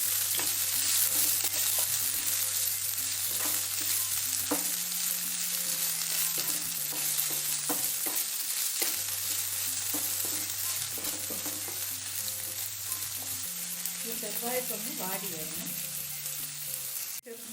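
Chopped panikoorkka leaves sautéing in a pan for buttermilk curry, with a continuous bright hiss of frying and soft stirring scrapes throughout, partly under a low tonal background hum.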